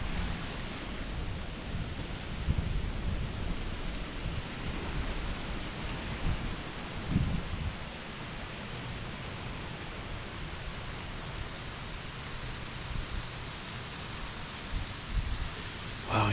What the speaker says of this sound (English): It started to rain. It's real windy.